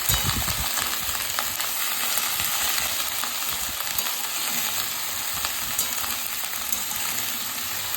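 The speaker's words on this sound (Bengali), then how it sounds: "নুন দিয়ে একটু ভালোভাবে নাড়ছি" Chopped bottle gourd stems with salt sizzle in a hot pan while being stirred, a steady close frying hiss with soft scraping and shuffling throughout.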